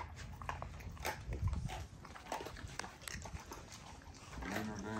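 A pitbull tears into raw chicken, giving close, wet chewing and biting sounds with scattered crunches and shuffling throughout, and no talk.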